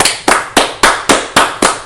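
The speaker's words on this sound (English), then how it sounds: "Can we get him another round of applause?" A single person claps loudly and close on a podcast, seven sharp, evenly spaced claps in a quick steady rhythm, each ringing out briefly before the next.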